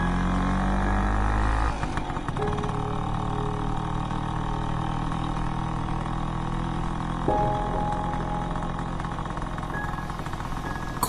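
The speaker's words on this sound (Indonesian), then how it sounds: "Kulajukan motor Vespaku di jalanan Bandung yang sudah mulai sepi." A Vespa scooter rides along a quiet Bandung street at night, its engine droning steadily and loudly with a gear-change shift partway through, mixed with a low tonal music bed and no voices.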